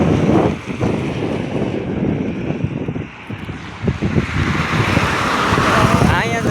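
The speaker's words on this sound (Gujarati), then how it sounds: "મસ્ત મજાનો પવન આવે છે" Strong wind buffeting the microphone while walking along a highway, a continuous rough rumble with traffic-like roar and a voice briefly audible.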